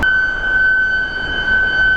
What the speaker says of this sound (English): Oh, now they're using a sirens.